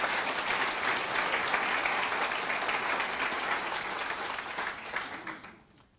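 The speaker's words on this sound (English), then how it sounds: "Give yourselves a huge round of applause" A convocation audience applauds steadily, dense broadband clapping sustained for several seconds before tapering off toward the end.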